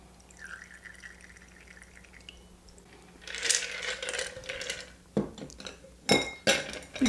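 A Sazerac cocktail is poured through a julep strainer into an absinthe-coated glass: a quiet trickle gives way to bright metal-on-glass clinks and a few sharp taps near the end, close and otherwise quiet.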